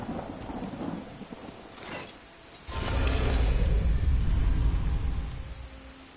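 Skyrim rainstorm: steady rain hiss, then a heavy roll of thunder swelling in and lingering loudly over the downpour.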